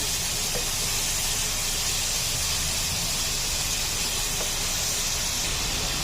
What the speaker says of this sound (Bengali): তা আমি এখন মশলাটা কষিয়ে নেব।